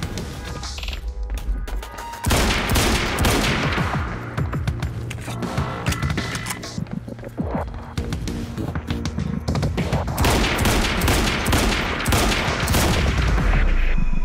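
Bursts of automatic gunfire and scattered single shots crack through a firefight in Quantum Break, loud and close, with crashes and impacts mixed in and the shooting growing denser toward the end.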